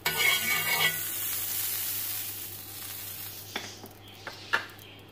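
Buttered lachha paratha cooks on a griddle over a very low flame, a soft hiss that is brighter at first and then settles, followed by a few light clinks of a utensil, with no voices.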